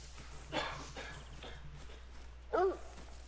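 Dog companion in a whitetail deer hunting video game, giving a few soft, distant barks and a brief whine over faint ambient outdoor sound.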